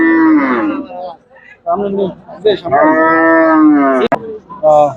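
A cow moos loudly several times at a cattle market, long drawn-out lowing calls with brief pauses, close by and clear.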